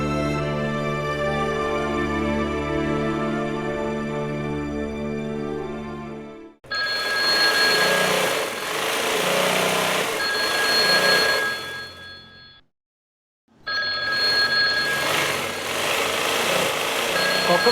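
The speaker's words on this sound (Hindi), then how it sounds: "कब से फोन बज रहा है, उठा क्यों नहीं रहे हैं आप?" A telephone bell rings steadily indoors for several seconds in a TV drama scene, then gives way to a loud continuous buzzing tone that breaks off briefly and resumes.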